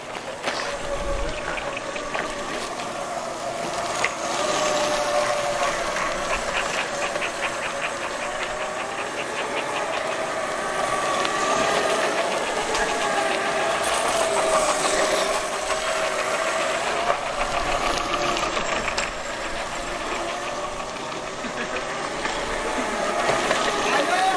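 Motorized boards from a home invention run in operation, giving a steady, loud mechanical drone with a knocking, whirring engine quality that continues unbroken throughout.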